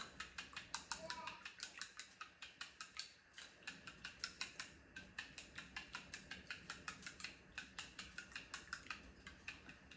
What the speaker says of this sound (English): You can also use chopsticks or forks to mix the yolk and also the egg white together